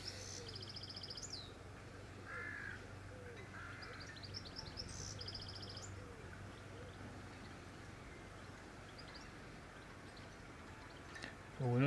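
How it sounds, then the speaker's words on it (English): Birds chirp and call intermittently from trees around the Hickling boat yards on the Norfolk Broads, thin high tweets scattered over a steady outdoor background with faint water drips. "Need plenty of birds and stuff singing in the trees"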